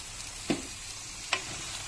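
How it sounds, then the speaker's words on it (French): Turkey meat browns in a pan for tajine with a constant close sizzle, broken by two distinct scraping knocks of a utensil against the pan. "ma viande est en train de dorer"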